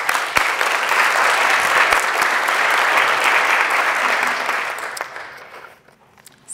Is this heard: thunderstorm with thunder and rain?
no